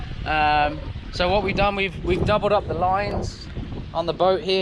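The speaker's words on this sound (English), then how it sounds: "You can probably hear the wind" Strong wind from an approaching tropical storm, Isaias, gusting across a moored boat in the Dominican Republic, a continuous low buffeting rush under someone talking close to the microphone throughout.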